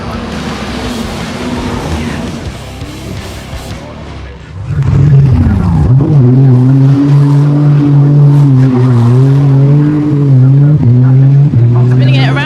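A race car at the Goodwood Festival of Speed spins around, first a rough rumble with tire noise, then a loud, sustained engine roar that wavers in pitch as it revs, close by and dominant, with a voice underneath.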